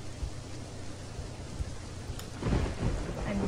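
Steady rain hisses throughout a stormy night in a Roblox camp game, with low thunder rumbling underneath and swelling louder in the last second.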